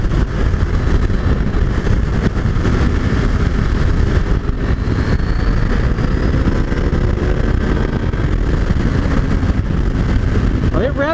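A brand-new KTM 890 Adventure R motorcycle engine runs continuously while riding, a loud dense drone with rising revs, wind buffeting and someone talking over it.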